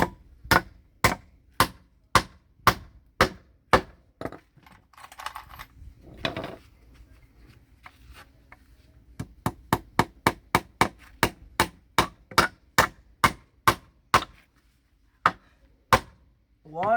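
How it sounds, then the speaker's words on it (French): A hammer drives in a nail with a rapid run of crisp, close, evenly spaced blows, a short scraping pause midway, then another fast series of strikes. "Regarde un gros coup de marteau"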